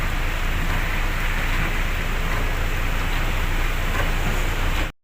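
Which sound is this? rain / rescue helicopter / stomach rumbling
rain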